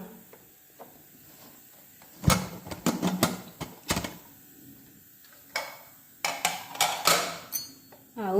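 A pressure cooker holding freshly cooked coconut rice is opened in a home kitchen, giving a burst of sharp metallic clicks and clatters from the lid and handle, then scattered softer clanks after a quiet pause.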